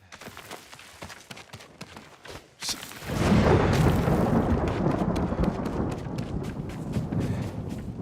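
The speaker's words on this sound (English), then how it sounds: "See how the weather is stormy? The weather changes depending on how you play the game." Stormy weather in a samurai video game: a loud, steady wash of rain and rumbling thunder that surges in about three seconds in and holds to the end, with faint sharper sounds before it.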